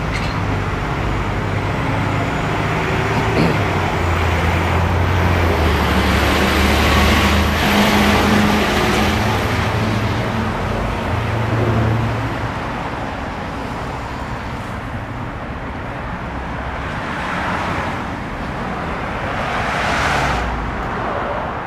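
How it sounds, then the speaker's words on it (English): City bus on the 74 Fullerton route approaching along a Logan Square street in Chicago, a steady broad engine and road rumble swelling slightly amid continuous traffic noise, no talk. "There's the 74 Fullerton bus coming up."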